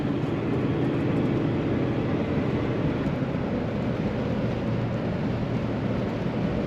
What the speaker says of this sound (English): There's just that nice low rumble when you're on the throttle.